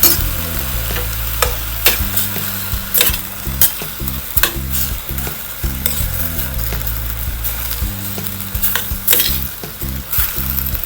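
Chinese cabbage stir-fried in a pan, with a steady loud sizzle broken by frequent sharp scrapes and clanks of a utensil against the pan, alone with no talking.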